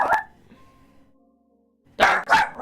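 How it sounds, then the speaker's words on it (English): Three dogs bark nearby, loud and close: a quick bark, a quiet gap, then two more sharp barks in a row. "No, there's 3 of them barking."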